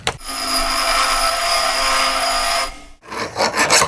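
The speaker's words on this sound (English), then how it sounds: "Now the fun part, tapping cast iron." A harsh metallic grinding whir of threads being tapped into cast iron runs steadily for about three seconds, then stops, followed by a few rough scraping bursts.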